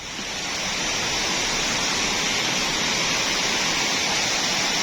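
A waterfall pours steadily in an outdoor swimming spot, a dense, continuous rushing roar that stays loud and even throughout with no voices over it.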